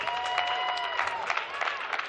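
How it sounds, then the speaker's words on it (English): Audience applause at a Super Smash Bros. Ultimate tournament at PAX West: a brief, steady burst of clapping from a crowd, with a voice heard over it. "Give him a round of applause."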